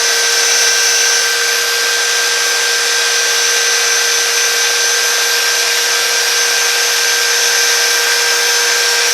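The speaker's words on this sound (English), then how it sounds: "it's just a matter of taking your drill and blending everything in" A power drill runs continuously at high speed while blending and shaping a wooden handle for a wood lathe tool, a loud steady whine with a constant pitch and no pauses or talking.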